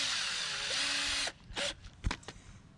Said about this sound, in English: we're gonna make a little pilot hole with a smaller one real quick